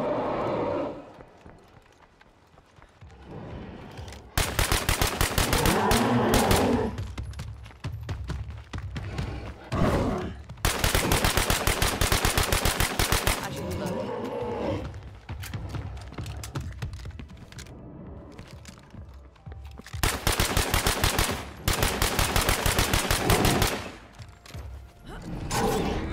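Gunfire in the video game State of Decay 2, with several bursts of rapid shots fired in dense rattling clusters, loud and close, separated by quieter gaps.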